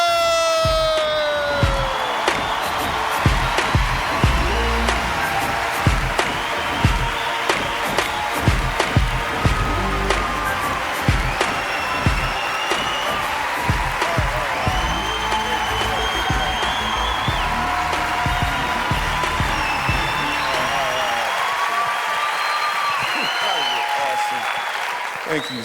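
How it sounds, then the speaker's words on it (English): A comedy-night audience applauds and cheers for a comedian taking the stage, sustained dense clapping for over twenty seconds with crowd noise, gradually thinning toward the end. "why y'all stop clapping?"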